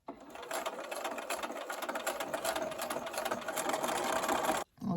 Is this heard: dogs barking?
no